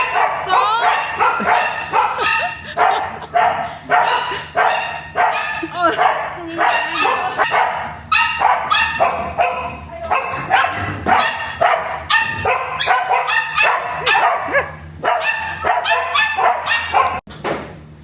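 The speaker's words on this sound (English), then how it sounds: "Look at the dog getting brought." Dogs bark and yip at a dog cafe in China, with bursts of barking scattered through steady, close conversation that runs nearly the whole time.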